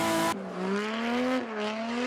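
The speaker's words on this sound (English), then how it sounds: "At turn 3, he shifts back into fourth and accelerates to the finish line." Drift car at Mantorp Park Circuit during the Swedish Drift GP, engine revving hard in fourth gear toward the finish line; a loud, near, rising engine whine with a brief shift dip midway.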